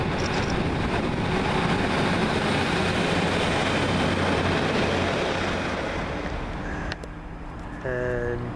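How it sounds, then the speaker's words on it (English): A Northern Rail diesel train on the Southport to Manchester Airport service pulls out of a station, a loud, steady rumble close by that eases slightly and then stops abruptly near the end. "Now leaving is the 1515 Northern Rail service from Southport to Manchester Airport"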